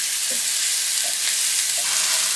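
Ginger and garlic paste frying in hot oil gives a loud, dense, hissing sizzle that holds steady for a couple of seconds, with a few faint scrapes of stirring beneath it.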